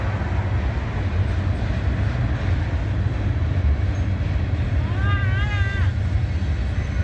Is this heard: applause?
no